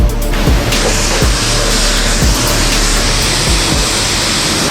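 High-pressure water spray rinsing a drift car, a steady, loud, unbroken hiss that lasts the whole stretch with no voices.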